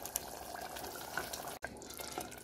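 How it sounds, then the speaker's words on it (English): Ginger garlic paste and yogurt simmering in a pan, a soft, continuous watery bubbling with scattered small pops, quiet and close, briefly cut by a short gap. "You can see a lot of bubbling happening here."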